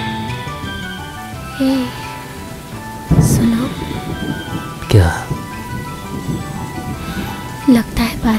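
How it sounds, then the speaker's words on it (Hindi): Rain falls steadily throughout with loud thunder cracks and rumbles at intervals, close and heavy, while people speak in between. "बारिश हो रही है।"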